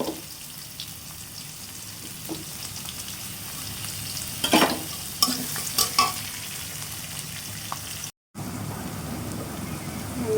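Chopped onion and green chillies frying in a pan give a steady low sizzle with occasional stirring clatters in the middle, then a brief dropout before the frying resumes.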